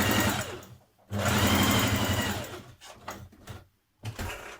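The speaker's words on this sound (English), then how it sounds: "You're going to do a line of ease stitching along there." Domestic sewing machine running ease stitching along the top of a tunic sleeve, two steady bursts of fast whirring stitching close by, broken by short pauses, with no talk.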